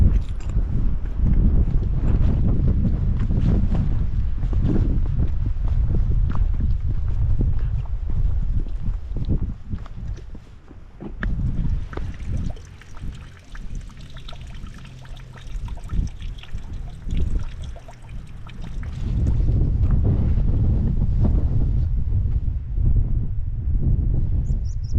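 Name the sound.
strong wind on a mountain hike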